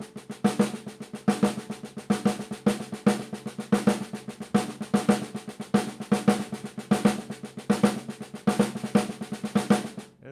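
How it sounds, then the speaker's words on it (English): A drummer plays paradiddle-diddles and six-stroke rolls in triplet form on a drum, giving dense grouped strokes with regular accents in a steady, rolling rhythm, close and alone. "And you can interchange them to get paradiddle diddles"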